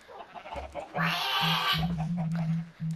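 Minecraft chickens cluck in short, close, repeated bursts, a few quick clucks in a row, alongside a brief wash of hiss in the middle.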